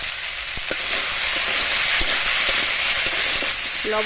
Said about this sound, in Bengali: সবজিটা খানিকক্ষণ ভেজে নিয়েছি। এবার এর মধ্যে দিয়ে দেবো হলুদ গুঁড়ো, লবণ